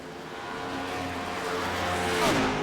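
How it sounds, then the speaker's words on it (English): Race cars at Watkins Glen during a Turn 4 Cup Series sim race: engines droning steadily, with a rising tire squeal near the end. No one talks. "I don't know if you folks at home can hear like the tire squealing and stuff like that."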